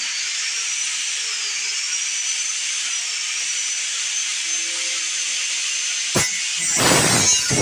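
A grinder cleans up a weld with a steady high-pitched whine, close and sustained, then a brief clatter and rougher burst of grinding near the end.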